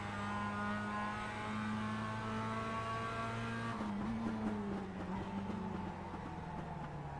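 Mazda MX-5 race cars lap Tsukuba circuit with a steady, droning engine note that shifts pitch partway through, heard at a moderate distance with no talk.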